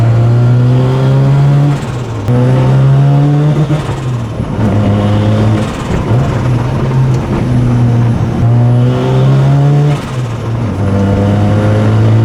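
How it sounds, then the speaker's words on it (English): A car with a single-turbo 13B rotary engine accelerates hard, its buzzing engine climbing in pitch through repeated gear shifts, loud and close, with no voices. "Enjoy some ASMR of a 13B with a single turbo."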